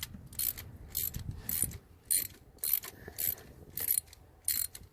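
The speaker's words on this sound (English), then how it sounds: "Go ahead and loosen it all the way until you can pull it up with your socket." A ratchet and socket loosen a spark plug on a Dodge Dakota 3.7 V6, producing evenly spaced short bursts of clicking, close and moderately loud.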